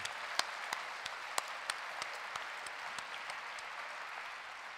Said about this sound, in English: Give them the overhead clap that they deserve, please.